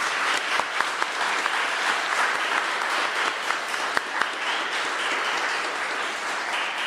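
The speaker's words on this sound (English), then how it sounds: "A big round of applause to our panelists." Audience applause for panelists at the end of a conference session on land, steady clapping from a crowd lasting several seconds with sharp individual claps standing out.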